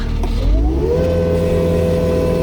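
A mid-sized engine on construction equipment working at a sewer lateral revs up as the throttle is opened, pitch rising smoothly then holding at a steady drone, loud and close.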